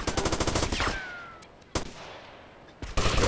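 Rapid gunfire in Grand Theft Auto: Vice City: a fast, loud burst of shots followed by two sharp single reports with quieter gaps between them, with no talk over it.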